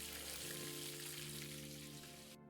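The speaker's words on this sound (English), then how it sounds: "Soon I heard the sizzling of frying meat" Steak fries in a pan in the video game AWSW, a steady loud sizzle and crackle with a low hum of background music underneath, cutting off at the end; no talk.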